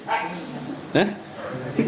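A dog gives a few short, sharp barks and yips close by, spread across two seconds, with people talking nearby.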